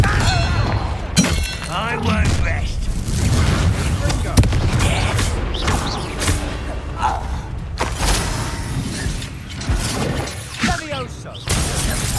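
Confringo explosive spell going off in Hogwarts Legacy: several loud booming blasts with cracking, shattering debris erupt in quick succession during a chaotic fight, with voices shouting in between.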